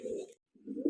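Fancy pigeons in a loft give two short, low coos, close and soft, separated by a brief pause.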